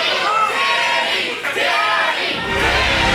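A wrestling crowd at a live independent show roars and cheers steadily after a finishing move, a dense, loud wash of voices that barely dips before surging again.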